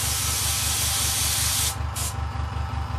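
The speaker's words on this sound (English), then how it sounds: "Quick test spray on the paper." A steady airbrush hiss sprays Candy Black Cherry paint onto paper for about a second and a half, stops, then gives a brief second burst, with a low mechanical hum running underneath.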